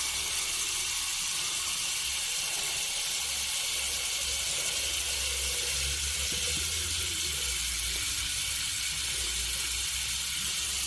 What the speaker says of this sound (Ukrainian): Бачите, вода ніби трішки набирається,